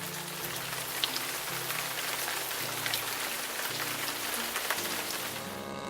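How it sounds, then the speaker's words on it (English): Heavy rain falls on a hilltop temple and its green grounds in India, a dense, even hiss of drops hitting surfaces, constant and close throughout. "until it started to rain."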